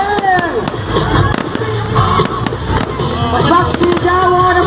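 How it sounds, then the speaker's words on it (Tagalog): Festival fireworks in Plaridel, a rapid string of sharp cracks and pops close by over a noisy crowd, with a voice calling out through the bursts. "Grabe naman yung fireworks."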